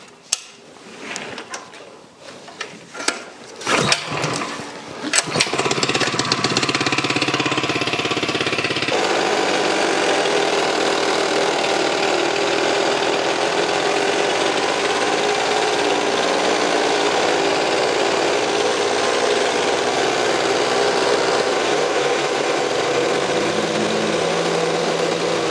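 Hyundai, Lumag and Wacker Neuson plate compactors pull-started one after another, with rattling starts and sputters giving way to a loud, steady, close petrol-engine drone and vibrating plate clatter that runs on continuously.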